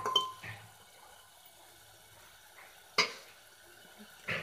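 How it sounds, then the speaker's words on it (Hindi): Paneer being stirred in a cooking pan for a restaurant-style matar paneer, heard as a few soft, close scrapes and clinks of a spoon against the pan with quiet gaps between them and no talking. "बाकी पनीर को डालने के बाद मैं इसको फिर से चला दे रही हूँ"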